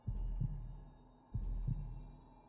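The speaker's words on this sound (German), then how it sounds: "Oh mein Gott, der Herzschlag," Heartbeat effect in the video game Hollow Knight: two slow, deep double thumps, lub-dub pairs about a second apart over a low hum, close and fairly quiet, with no talking.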